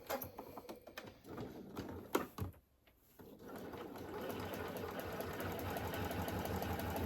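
A home sewing machine stitches stacked dress fabric and elastic at a quarter-inch seam, its steady mechanical whir running continuously after a few brief stops and starts at the beginning.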